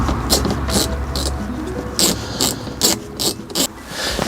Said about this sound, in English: now I've got a ratchet and an 8mm socket, and we'll undo those 2 bolts